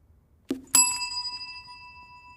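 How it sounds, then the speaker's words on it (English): In a reaction-time test, a hand strikes a bell: a soft thump, then one bright metallic ding that rings on and fades slowly in quiet surroundings. "As soon as I release the ball, Jamie is going to hit the bell."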